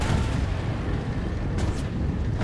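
Tanks fire in the video game Enlisted, with heavy booming cannon blasts and rumbling battlefield noise rolling continuously, plus a couple of sharper bursts near the end.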